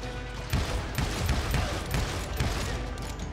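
Gunfire from a sawn-off shotgun in the Western shooter Call of Juarez: Gunslinger, several loud booming blasts in quick succession over a dense, noisy game soundscape.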